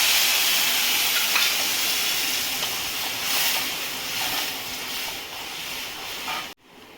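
Buttermilk poured into hot tempering oil with turmeric and red chili makes a loud, sustained hiss and sizzle. It fades slightly over several seconds, then stops abruptly at the end.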